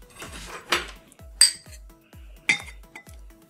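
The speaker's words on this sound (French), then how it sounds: "Je vais mélanger un petit peu." A spoon clinks against a cup while stirring warm milk with a tablespoon of butter, a series of close, sharp ringing taps spaced through a quiet room.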